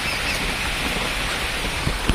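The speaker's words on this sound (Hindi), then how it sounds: "वर्षा केते जोरे होची" Heavy rain pours down in a dense, unbroken hiss that fills the whole stretch, with a few closer knocks or drips near the end.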